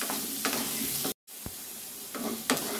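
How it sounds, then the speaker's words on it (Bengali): Potatoes fry in oil with salt and turmeric, with a loud, close, steady sizzle and several scraping stirs, briefly cut to silence once midway, and no talk. "আলুটা ভেজে নিচ্ছি নুন আর হলুদ দিয়ে।"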